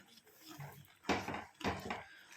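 Thick hair dye paste stirred in a bowl, two sharp scraping clatters of a utensil against the bowl after quieter mixing sounds, close and brief.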